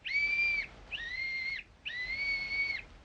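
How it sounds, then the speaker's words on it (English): A little whistle blown three times in a radio drama, each a clear, steady high tone about half a second long with brief gaps, close and fairly soft. "Blow the whistle quick, Jimmy."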